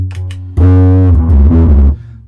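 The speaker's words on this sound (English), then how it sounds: "the distortion pedal doesn't work at this volume, or it's a weird one" Ibanez RB720 bass guitar played through a distortion pedal: a few quieter plucks, then a loud, thick sustained distorted chord that rings for over a second before cutting off.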